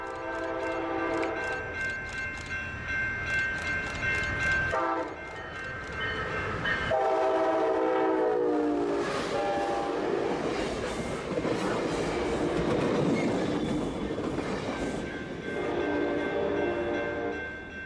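Northbound train 629 at the Carlsbad Village Drive crossing sounds a long, loud horn blast that breaks off and starts again, then rumbles past with steady rail clatter and wheel noise, no voices.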